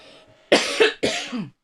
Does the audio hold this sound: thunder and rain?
no